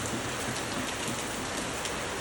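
Heavy rain pours down in a dense, constant roar close by, steady and unbroken throughout, with no voices.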